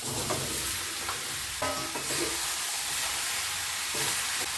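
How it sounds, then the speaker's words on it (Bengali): Bay leaf, dried chilli and five-spice seeds sizzle steadily in hot oil in a kadai with a few stirring scrapes, a close, continuous crackle with no voices. "ভাজা হয়ে গেছে, পাঁচফোড়ন লঙ্কা দিয়ে দিলাম।"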